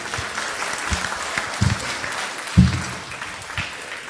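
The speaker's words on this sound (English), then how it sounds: "I think Andy needs a special round of applause on that one, on the drum." Concert audience applauding the drummer after a song, a steady wash of clapping from a crowd with a few louder individual claps standing out, fairly close and continuous throughout.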